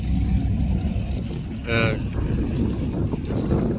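A boat out on open water at a seasonal work site in Wando County, South Korea, its steady low rumble and rushing wind noise filling the mic, with a brief higher tonal whine in the middle.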